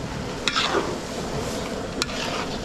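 Coconut milk is poured into a large catering cooking pot and stirred. The stirring makes a soft, steady scraping and sloshing near the mic, with a couple of brief clinks.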